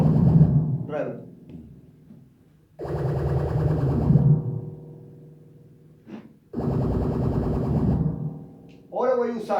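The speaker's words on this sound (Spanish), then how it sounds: "Ahora solo el reverb en el final." A synthesizer sound played through a reverb effect comes in repeated buzzy, distorted bursts. Each loud phrase is cut off or left to trail away, and the sustained passages stand close and prominent.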